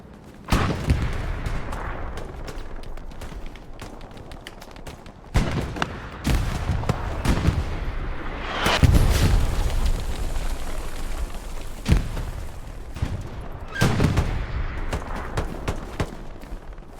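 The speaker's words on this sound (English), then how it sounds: "Chucking grenades, peeking corners, takes out Freeze, taking out himself" Gunfire and grenade explosions from a Hell Let Loose match on the Sainte-Marie map, heard as loud booming bursts and sharp cracks at intervals over a constant rumbling battlefield background.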